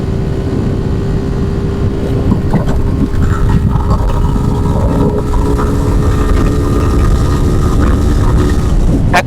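A Suzuki Gixxer FI ABS motorcycle accelerates in fourth gear at speed, a loud, continuous engine drone heavily mixed with rushing wind noise, steady throughout.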